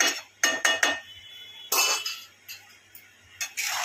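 A spoon or spatula clinks and scrapes against a metal pan and plate as finely scrambled green-chilli egg bhurji is moved onto a plate, a series of sharp, close metallic knocks separated by short quiet gaps.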